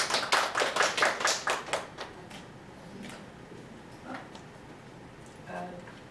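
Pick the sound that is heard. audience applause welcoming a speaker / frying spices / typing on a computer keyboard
audience applause welcoming a speaker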